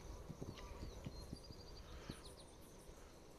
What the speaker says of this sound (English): I mean, they got horses there.